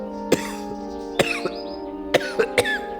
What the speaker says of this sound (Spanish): Él seguía tosiendo sangre y se sentía terrible